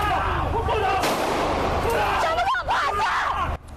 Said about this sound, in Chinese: 官员过去对空开3枪，不过双方犹原无受控制。